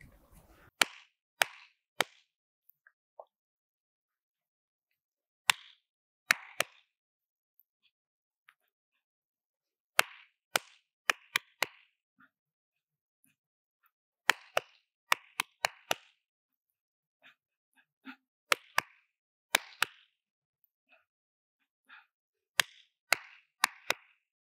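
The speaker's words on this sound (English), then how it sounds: "Miss Diana is going to clap first and you're going to answer" Sharp hand claps from children in a music class, bursting in short rhythmic groups with pauses between them, as one clapped pattern is answered by another in a call-and-response game. No talking.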